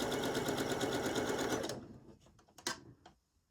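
A sewing machine stitches fabric for a faux wrap top, loud and close with a steady rapid rhythm for about two seconds, then stops, leaving a few faint handling clicks and soft rustles.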